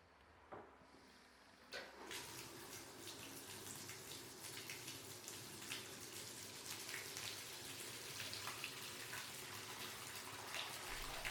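Water runs steadily into a bathtub-like coolant tray beside a blade being filed, a soft continuous splash that starts after a brief pause and stays even throughout.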